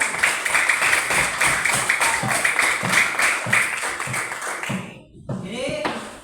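Primary school pupils in a classroom clap their hands together in a steady, rhythmic pattern that runs for several seconds. A few voices mix in, and the clapping stops abruptly near the end.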